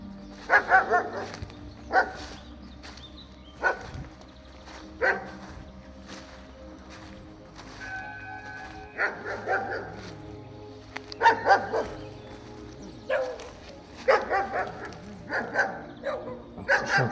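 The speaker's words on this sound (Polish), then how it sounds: "zły pies." Dog barking repeatedly in short bursts at a distance near Lasocice cemetery, irregular spacing, with faint background noise between barks.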